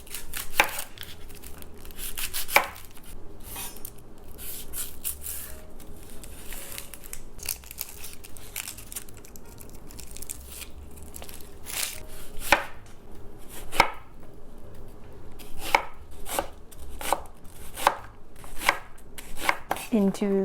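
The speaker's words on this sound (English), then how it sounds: "Next up, I'm gonna cut up 1 onion." Sharp knife strokes chop through an onion on a cutting board, irregular bursts of crisp thuds with brief pauses between runs, close and clear.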